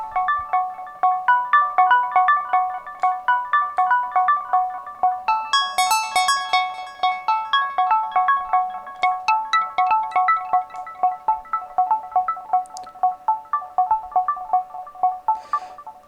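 A bright, driven synthesizer plays a quick repeating melodic pattern of short plucked notes, steady and fairly loud, with no voices.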